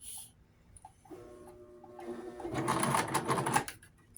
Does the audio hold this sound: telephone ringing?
no